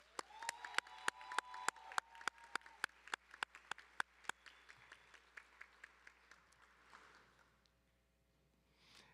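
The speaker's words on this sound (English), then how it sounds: "One more round of applause for Marcus Watkins." An audience applauds at a spring commencement ceremony; loud, sharp claps ring out through the first half, then thin into a softer patter that dies away, with a brief burst of noise at the very end.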